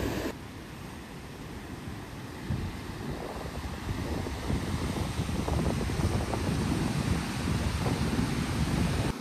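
Cold, muddy Baspa River water from the Himalayas roars past a riverside campsite below Chitkul in a continuous, loud, close rush, with gusts of wind buffeting the microphone.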